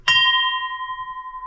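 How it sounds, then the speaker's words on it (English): A single struck bell at a Buddhist or Hindu temple in Nepal's Himalayas rings out clear and loud, its pure tone sustaining and slowly fading over more than a second. "So every Buddhist and Hindu temple, they have a bell."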